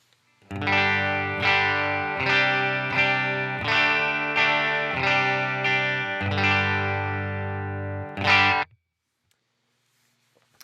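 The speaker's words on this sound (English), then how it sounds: "here's what it sounds like, completely dry. Telecaster bridge pickup." A Telecaster electric guitar on its bridge pickup, played clean and unprocessed, with a series of strummed chords ringing out in a steady rhythm, ending abruptly before silence.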